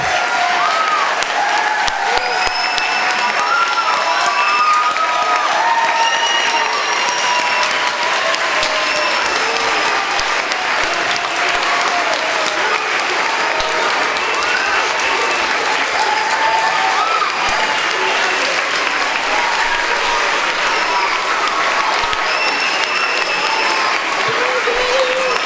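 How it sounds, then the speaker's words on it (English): A school concert audience applauds a teacher with loud, continuous clapping and cheering that holds steady throughout, with scattered voices in the crowd. "Can we have one loud round of applause for Miss Jackson?"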